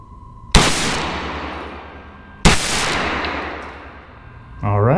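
Kel Tec Sub 2000 9mm carbine fired at a target, two sharp, loud shots about two seconds apart, each ringing out and decaying, followed by a brief voice at the end.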